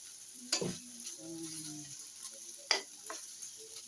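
Tocino fries quietly in a pan with a faint, steady sizzle, broken by a couple of sharp clicks from handling.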